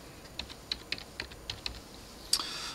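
Quiet, sparse keystrokes on a computer keyboard, about a dozen light taps at uneven spacing with a slightly louder final press, heard alone and close.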